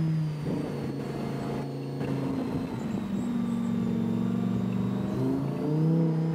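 A Lamborghini driving on a town loop, its engine droning loud and close with a rising, revving pitch as it accelerates, steady throughout with no talking.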